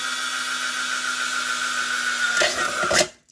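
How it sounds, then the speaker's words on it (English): A power drill drills a hole, whirring steadily and loudly at close range, rising into a grinding burst near the end before stopping abruptly. "now I'm going to drill the hole on the other side"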